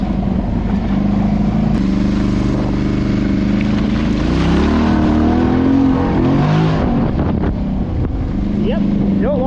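A 500 ATV carrying two riders pulls a wheelie through a muddy trail, its engine a loud sustained roar with climbing and falling pitch under wind buffeting, a voice talking over it.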